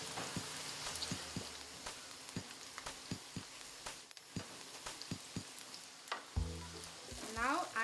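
Jeera paste frying with half-browned onions in a pan, giving a close sizzle with repeated stirring clicks and scrapes and a brief louder burst of frying near the end.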